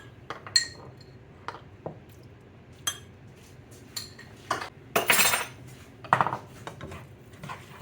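A utensil stirs lemon juice into a shrimp and crab burger mixture in a bowl, giving a string of sharp, irregular clinks and scrapes with a few louder wet, clattering bursts, close up and without speech.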